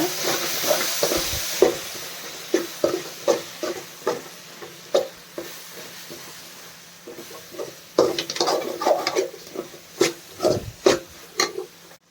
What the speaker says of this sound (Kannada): ಹಾಫ್ ಟೇಬಲ್ ಸ್ಪೂನ್ ಅಷ್ಟು ನಾನು ಗರಂ ಮಸಾಲ ಪುಡಿನ ಹಾಕ್ಕೊಳ್ತಾ ಇದ್ದೀನಿ ಇದನ್ನೆಲ್ಲ ಚೆನ್ನಾಗಿ ಸ್ವಲ್ಪ ಮಿಕ್ಸ್ ಮಾಡ್ಕೊಳ್ಳೋಣ